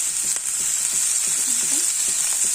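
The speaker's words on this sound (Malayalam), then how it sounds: "നമ്മൾ സവാളയും ചെറിയ ഉള്ളി എല്ലാം അരിഞ്ഞ് വെച്ചിട്ടുണ്ട് ഇതിനകത്താണ് പത്ത് ചെറിയ ഉള്ളി കുറച്ചൊക്കെ ഞാൻ മുഴുവനെ ഇട്ടിട്ടുണ്ട്" Chopped onions and shallots frying in a pan for a Kerala-style beef roast, giving a steady, close, loud sizzle with faint stirring scrapes and no talking.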